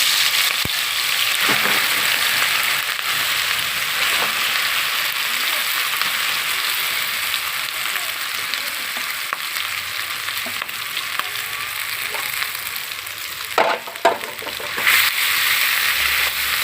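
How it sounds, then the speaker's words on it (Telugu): A scrambled fish mixture (sora puttu) fries loudly in hot oil, producing a dense steady sizzle with intermittent scraping and clattering stirs near the end and no voices. "ఈ కలుపుకున్న మిశ్రమం అంతా కలిపి ఆయిల్ వేసుకొని బాగా వేపుకోవాలండి"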